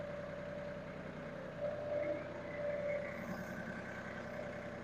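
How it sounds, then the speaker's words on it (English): An LS tractor fitted with a backhoe drives slowly forward, its diesel engine droning steadily at close range and swelling slightly twice before cutting off abruptly. "I'm going to get on the tractor and I'm going to drive forward just a little bit"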